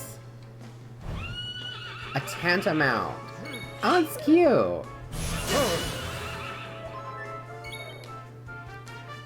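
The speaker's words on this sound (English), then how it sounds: "A horse!" Several horse neighs and whinnies sound out in the video game Dragon Quest XI, rising and falling calls with faint hoof clops under a steady musical drone, while a person talks casually over them.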